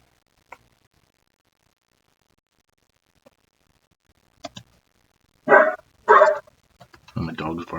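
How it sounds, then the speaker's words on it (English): A dog barks indoors, starting with a few faint isolated yips and then several loud, close barks in quick succession near the end. "my dog's barking"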